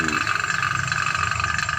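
A vacuum pump hums steadily during an air conditioner installation, a close, even mechanical drone with a fast regular pulse, heard alone.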